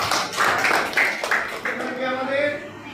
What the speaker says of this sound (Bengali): সবাই হাততালি দাও।